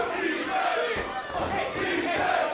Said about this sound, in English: The crowd starting to chant defense here for Jermaine Marbury